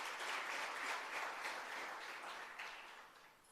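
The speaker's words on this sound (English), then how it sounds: "Can we give her a round of applause?" Faint, distant applause from a workshop audience, a soft continuous clatter of many hands that gradually fades over a few seconds.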